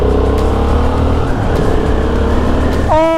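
A Honda Hornet 750 twin-cylinder motorcycle engine drones steadily at a loud, close level, then suddenly snaps into a sharp rising rev as the throttle opens at the end.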